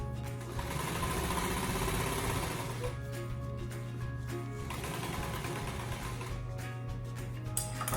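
A sewing machine runs steadily, stitching a seam while a garment is remade, its motor whirring with a busy mechanical chatter that holds close and continuous, with no talking.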